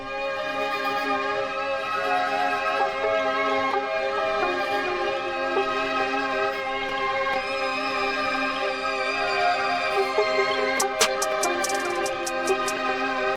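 A Playboi Carti-style type beat made from layered samples plays dense and sustained, with a rising tempo and falling pitch, thick harmonic tones over a steady pulse and bright ticks near the end.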